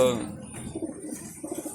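A racing pigeon held in someone's hand at a flying loft gives soft, low, repeated coos close by, with a voice talking over part of it.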